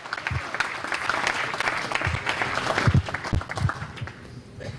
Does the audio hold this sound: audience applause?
yes